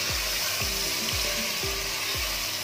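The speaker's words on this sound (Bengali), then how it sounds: "এবার আমি ভালো করে মাংসটাকে কষাবো" Meat frying with spices in a pan for biryani, a steady hiss of sizzling throughout with repeated stirring scrapes at a regular rhythm, close and loud with no talking.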